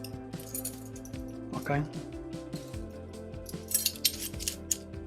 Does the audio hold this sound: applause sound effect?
no